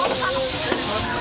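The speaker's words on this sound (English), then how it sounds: "it's the steam train" Steam train at the Efteling theme park hissing steadily for a moment, a broad continuous rush with faint whistle-like tones, heard close by with a voice nearby.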